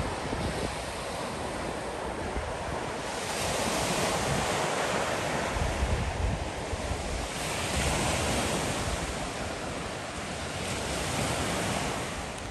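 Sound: Mediterranean sea waves on the coast

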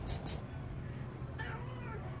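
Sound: cat meowing

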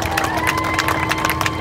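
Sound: crowd applause and cheering at burnout competition

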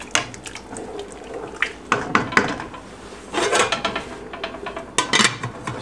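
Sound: putting a lid on a cooking pot

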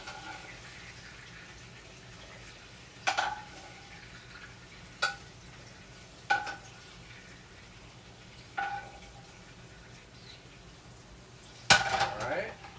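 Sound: scooping sausage out of a pan

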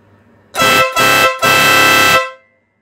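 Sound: Stebel Nautilus air horn blasting

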